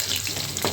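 Food frying in hot oil in a pan makes a brief, close, dense sizzle with soft crackling and a stirring scrape near the end, with no talk.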